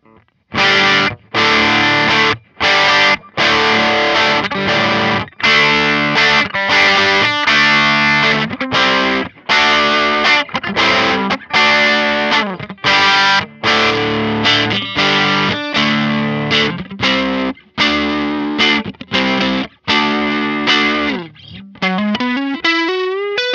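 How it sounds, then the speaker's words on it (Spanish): Electric guitar played through hard-clipping overdrive pedals, loud and aggressive, with a series of distorted chords in a steady rhythm, ending on a bending lead phrase. "lo que hacen estos pedalitos hard clipping es que tienen un poco más agresivo la distorsión o la ganancia o el overdrive"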